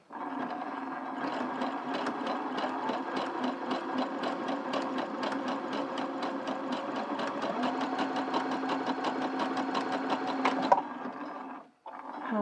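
A sewing machine zigzag-stitches down the edge of fabric in a steady, rapid mechanical chatter that runs unbroken for about ten seconds, close and moderately loud, before stopping abruptly and briefly restarting.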